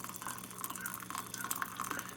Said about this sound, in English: bring the water right off the boil and pour it into your cup